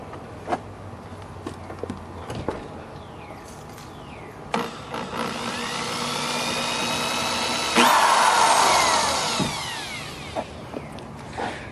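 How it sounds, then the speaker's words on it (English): A power drill with a dull bit whirs steadily as it bores through a wooden door, the pitch shifting and loading up as the bit bites in, with a few clicks and knocks around it. "This drill bit is really dull."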